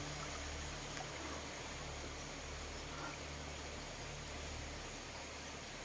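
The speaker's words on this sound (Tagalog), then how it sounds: "may ilog ang tawag sa amin ito ay lugot o maliit na ilog" Small river stream flowing, a steady broadband rush of moving water heard close and continuous throughout, with no voices.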